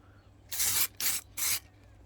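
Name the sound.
spray painting metallic coat on resin Iron Man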